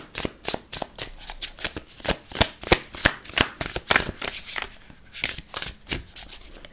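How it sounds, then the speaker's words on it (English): Cards being riffled and shuffled close up, a rapid series of crisp flapping bursts in an uneven rhythm, loud and with no one speaking. "if I'm shuffling really close to me"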